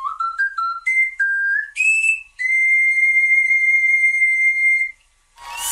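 Handmade ocarina plays a short melody of pure, breathy whistle-like tones, a few quick notes and then one long held note, clear and close with no talking.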